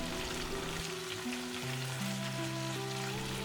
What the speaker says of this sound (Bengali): আলু পেঁয়াজ তো ভাজা হয়ে গেছে, এবার ডাঁটা আর টমেটো দেবো। সব সবজিগুলো এবার ভালো করে ভেজে নিই।